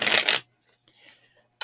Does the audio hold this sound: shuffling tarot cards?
yes